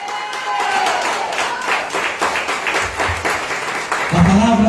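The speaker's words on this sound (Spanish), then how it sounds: "Den un aplauso al Señor" A church congregation applauds the Lord during a Spanish-language service, with a burst of rhythmic clapping and crowd noise over a few seconds, a sustained tone or voice running underneath.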